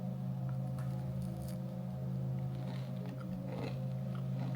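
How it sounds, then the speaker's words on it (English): Someone bites into a very thin, crunchy cookie, with a few crisp crunches close by over a steady low hum. "I don't know if you can hear the crunch,"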